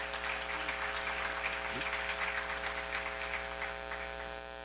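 A church seminar congregation claps in sustained, dense applause that fills the room evenly throughout, over a steady low electrical hum.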